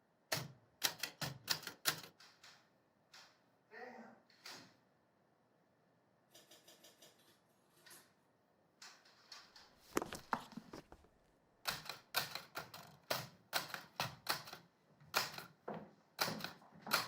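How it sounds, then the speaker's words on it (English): Keys on a manual typewriter clatter in quick bursts, with short pauses between runs of strokes and a brief lull in the middle; the rapid close strikes are loud and stand alone with no talking. "do you have a typewriter?"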